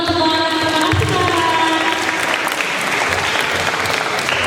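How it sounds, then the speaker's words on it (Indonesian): Loud, sustained applause from an audience at a book discussion event fills the whole clip, dense clapping with a few cheers mixed in. "Beri tepuk tangan untuk orang."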